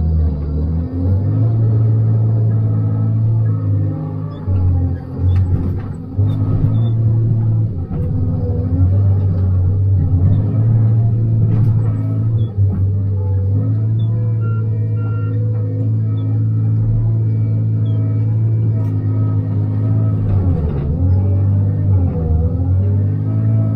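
Tigercat 635D forestry machine heard from inside the cab, its engine a loud, steady low rumble that continues throughout with slight load changes and occasional clanks.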